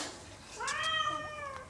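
A cat gives a single clear, rising-and-falling meow, close and moderately loud, over quiet room background.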